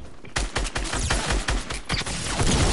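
Rapid gunfire from players shooting in a video game, a dense burst of loud, repeated shots in quick rhythmic succession, sustained across the whole stretch.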